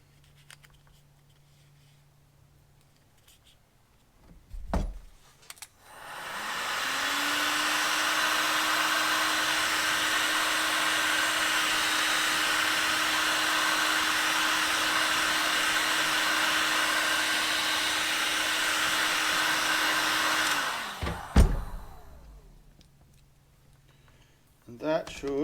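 A heat gun shrinking tubing during motorcycle prep on a KLR 650, a steady loud blowing whir running for about fifteen seconds after a click, then switching off with a few handling knocks around it.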